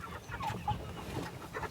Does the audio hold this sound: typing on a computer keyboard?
no